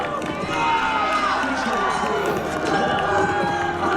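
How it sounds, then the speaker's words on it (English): Crowd noise at an elite girls' 5K track race under the lights, with a dense murmur and cheering from spectators behind a commentator's continuous talk, holding steady throughout. "Loving the crowd participation here under the lights."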